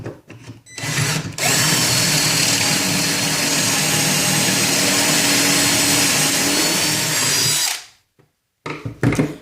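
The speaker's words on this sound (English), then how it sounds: "I'll go ahead and drill the other one." A power drill whines loudly and continuously for several seconds, close up, drilling through a metal face frame jig, then stops abruptly with a brief quiet before another short burst.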